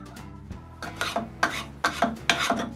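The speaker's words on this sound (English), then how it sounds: "I make them in an hexagonal shape and round one end with a spoke shave." Rhythmic rasping strokes of a spokeshave rounding the end of a hexagonal wooden peg, several quick scraping passes in a row, close and fairly loud with no voices.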